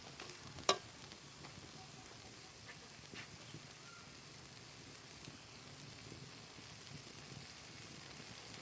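Gentle, steady sizzle of peanuts and pointed gourd frying in a pan over medium heat, faint and continuous with a single sharp clink early on.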